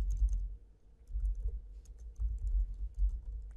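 Soft rapid clicking of computer keyboard keys in a quiet room, irregular bursts of typing while an HTML table is filled in.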